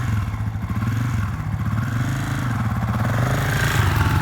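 A Honda CRF250F dirt bike engine pulls away in first gear with a steady, throbbing mid-pitched drone, close and continuous.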